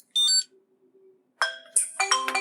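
A Dolphin tracker smart wallet's button triggers a phone ringtone despite silent mode: a short electronic tone, a pause, then a louder bright melodic ringtone that keeps playing, close and clear.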